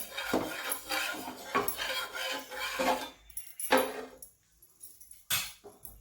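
Oil being spread across a pan with a metal utensil for a traditional Konkani bhanole, heard as close, irregular scraping and clinking strokes with brief pauses between them.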